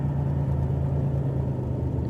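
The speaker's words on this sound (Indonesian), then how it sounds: "Mas Garnet pun cepat-cepat menutup pintu dan menginjak pedal gas menuju ke kantor." A car engine rumbles steadily at close range as the vehicle pulls away, a low, even hum without any voices over it.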